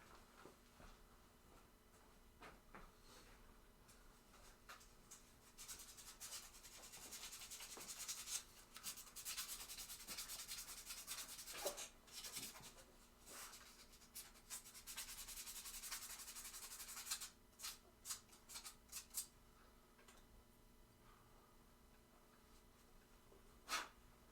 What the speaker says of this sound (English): I guess I could sand it. Where's that piece of sandpaper I had?